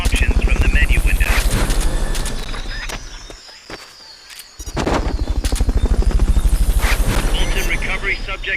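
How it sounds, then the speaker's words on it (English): A helicopter in the Metal Gear Solid video game beats with a loud, rapid rotor chop that fades into a brief quieter gap before the thumping returns at full strength. "Fulton recovery subject confirmed onboard helicopter."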